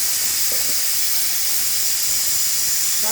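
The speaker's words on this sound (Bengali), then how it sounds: "রসুনটা একটু ভাজা হবে রসুনটা আসলে এটা ভাজা হলে গন্ধটা সুন্দর ওঠে" Garlic fries in a pan, giving a loud, continuous hiss and sizzle that stays steady and close, with faint clinks underneath.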